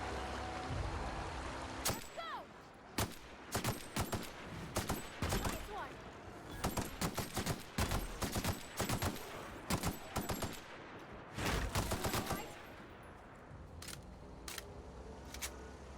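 Gunfire crackles during target practice in a video game. Rapid bursts of sharp shots fire in quick clusters with short pauses between them. The shots are loud and close over a steady background hiss.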